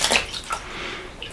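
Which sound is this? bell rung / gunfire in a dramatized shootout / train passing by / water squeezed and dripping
water squeezed and dripping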